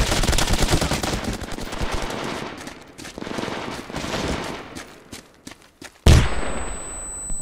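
Sustained rapid gunfire from an enemy firefight in the video game SOCOM, dense bursts of automatic shots for several seconds, thinning near the end before one sharp loud report.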